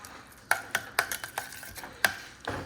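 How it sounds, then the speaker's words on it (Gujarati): Thepla dough ingredients get mixed in a bowl, giving close, sharp clinks and scrapes of a utensil against the bowl in an irregular series of about ten strokes, with no talking. "તો હવે આને આપણે મિક્સ કરશું."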